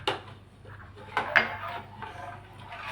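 Kulfi mixture of milk and ground ingredients is stirred in a pot, with a spoon scraping and clinking against the metal in soft, irregular strokes close by, over a low steady hum.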